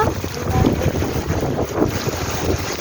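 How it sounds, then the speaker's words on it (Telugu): Heavy rain pours down hard in a dense, steady roar with gusting wind, loud and continuous throughout, with no voices. "వర్షం ఎంత గట్టి కొడుతుందో చూడండి"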